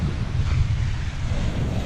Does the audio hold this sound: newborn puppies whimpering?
no